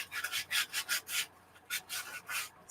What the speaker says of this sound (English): So I'm kind of sanding down the paper, kind of trying to make it a little bit even.